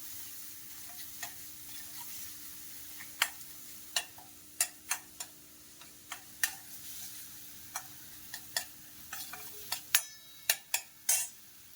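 Spice masala sautéing in hot oil for a spicy white pea curry, a soft steady sizzle punctuated by sharp, irregular clicks and scrapes of a spoon stirring against the pan, growing busier toward the end, with no talking.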